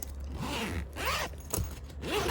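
Zipper on a window screen of a 2023 Rockwood Roo 233S hybrid camper, several short zipping pulls heard close up in sequence, each a rising rasp, quiet and with no talk.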